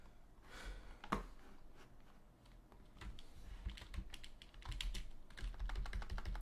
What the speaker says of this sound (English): Oh my, typing is terrible.